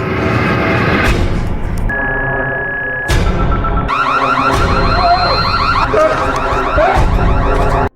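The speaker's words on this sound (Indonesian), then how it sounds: "Dan akibat alarm darurat itu, kini pendengaran si Abah pun menjadi kacau" A film's emergency alarm, set off by an emergency button, blares loud and continuous, with shifting electronic tones and warbling wails layered over one another for the whole stretch, with no voices.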